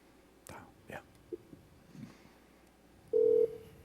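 Telephone dialing into an automated IVR phone system: a few faint keypress blips, then a single loud, steady dial tone lasting about a third of a second near the end, with soft whispery background noise.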